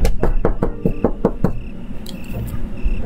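A cartoon door is knocked on in a quick run of about seven sharp, evenly spaced raps, loud and close, followed by quieter shuffling noise with no voices.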